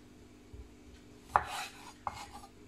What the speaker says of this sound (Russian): Разрежем его вот так на 4 части.